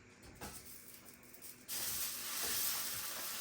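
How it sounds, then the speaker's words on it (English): Sausages for an Irish breakfast fry-up hit a hot frying pan with a sudden loud sizzle that jumps up midway and then holds as a steady, close hiss, preceded by quieter kitchen rustling. "Let's throw the sausages in."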